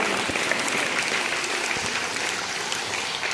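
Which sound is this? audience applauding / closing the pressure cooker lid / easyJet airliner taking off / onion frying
audience applauding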